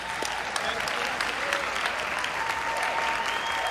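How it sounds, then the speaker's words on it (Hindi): A large audience at a Hindi poetry gathering, a kavi sammelan on Hindi Diwas, gives loud, sustained applause to welcome the poet Sudeep Bhola, a thick continuous wall of clapping with scattered crowd noise beneath it. "एक बार जोरदार तालियों के साथ सुदीप का स्वागत करें।"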